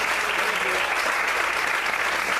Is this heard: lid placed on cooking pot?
no